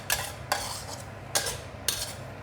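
Spatula scraping and clinking against a pan while A1 rice vermicelli is stir-fried for Sin Chew bee hoon, with three or four distinct metallic strikes over a low steady background.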